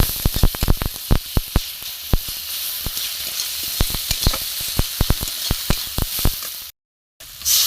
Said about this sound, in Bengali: মশলা গুঁড়ো দিয়ে দেবো, দিয়ে আমি একটু কষিয়ে নেব